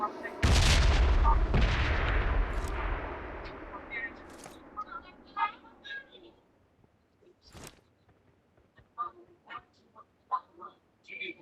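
Missile strikes in the mobile battle-royale game BGMI boom as a heavy, loud blast trailing into rumbling, followed by scattered sharp bangs and gunfire, with players talking over the action.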